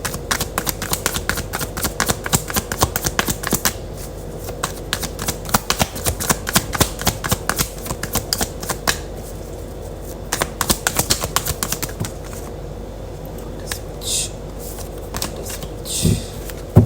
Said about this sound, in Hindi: एक बार मैं सारे कार्ड निकालूँ